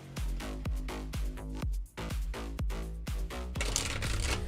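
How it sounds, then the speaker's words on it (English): Tarot cards riffle-shuffled repeatedly in quick, rhythmic bursts, close and crisp, with no voices. "Here is your casino shuffle, your casino cut, if you will."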